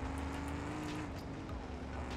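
Car engine in BeamNG.drive driving the wrong way during a race under Jupiter gravity, a steady droning hum held at constant pitch throughout, loud and continuous with no voices.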